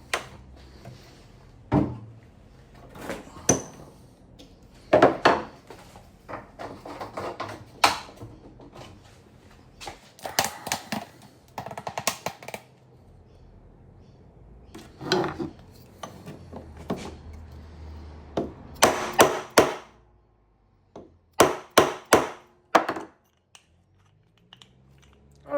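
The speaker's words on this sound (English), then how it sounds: "then we just hammer it, apparently, just to give it a bit of press fit" A hammer knocking a part into a press fit at a workshop bench, with sharp scattered metallic taps and thuds in irregular bursts and pauses, close and fairly loud.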